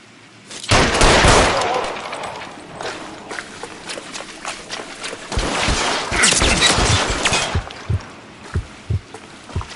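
Gunfire in the video game L.A. Noire: a burst of loud, close shots near the start, then scattered sharp cracks and a rapid volley later, with background noise throughout.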